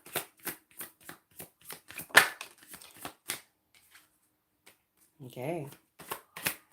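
Tarot cards handled and shuffled, crisp regular riffles and flicks up close, followed by a pause, a brief spoken word and a few more card sounds.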